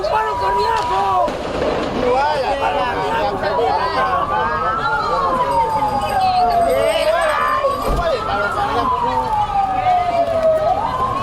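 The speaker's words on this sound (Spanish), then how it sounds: "Se va en la ambulancia, se va ahí." Ambulance siren at a street scene, a wailing tone that rises and falls several times over a noisy crowd, with people talking throughout.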